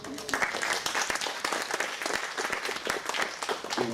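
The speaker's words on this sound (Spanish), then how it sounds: "Lo recibimos con un caluroso voto de aplauso." Audience applause welcoming a speaker at a lecture on arbitration, a dense, steady clapping from many hands that carries on throughout without pause, with a faint hint of voices underneath.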